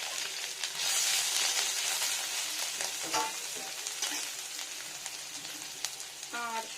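Ginger fries in a pan under lowered heat, a constant bright sizzle with occasional spatula scrapes and clinks, close and moderately loud throughout.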